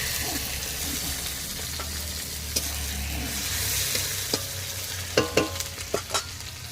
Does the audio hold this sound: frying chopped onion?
yes